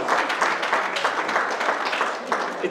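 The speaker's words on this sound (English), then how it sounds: "Big round of applause" A room of people at a Plymouth County Democratic League event applauds, a steady dense burst of clapping that runs the whole moment at moderate loudness.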